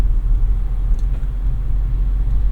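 A manual car's engine drones in second gear after a gearshift, a steady low rumble heard from inside the cabin.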